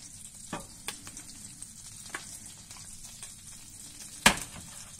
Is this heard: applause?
no